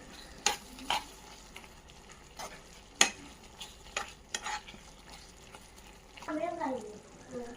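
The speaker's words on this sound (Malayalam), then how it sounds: "തിളച്ച് വരുന്ന ഈ മസാലയിലേക്ക് കട്ട് ചെയ്ത് വെച്ചിട്ടുള്ള മഷ്റൂം ചേർക്കുന്നുണ്ട്." Cut mushrooms are stirred into a bubbling masala in a pan, with sharp spoon scrapes and clinks over a soft, quiet background simmer.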